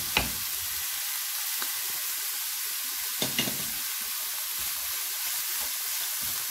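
Carrots and meatballs fry in oil in a pan, a steady soft sizzle running throughout with a few brief clinks and stirring knocks, close and unaccompanied by speech.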